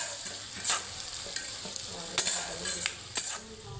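Onions frying in a pan for Bengali chili chicken, a low steady sizzle with occasional stirring scrapes and clinks of a utensil against the pan, heard alone without talk.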